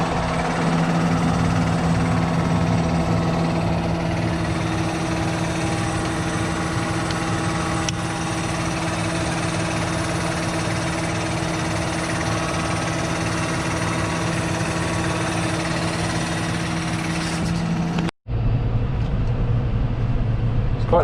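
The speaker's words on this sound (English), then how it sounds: "Quite nice to be back in the tractor." Tractor engine droning steadily while driving on a UK farm road during harvest, heard from the cab as a loud constant rumble with a brief break near the end.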